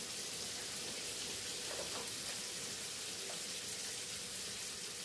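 Sliced onion frying in a pan for a prawn fry, a steady dense hiss and sizzle that stays even and close, with a faint stir or two.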